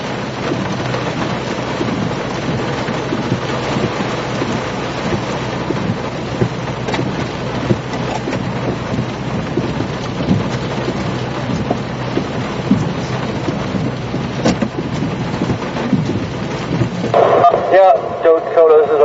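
Heavy rain pours steadily through a severe Missouri thunderstorm, a dense, loud, unbroken wash close by with wind buffeting the microphone, and a sharper burst of noise near the end.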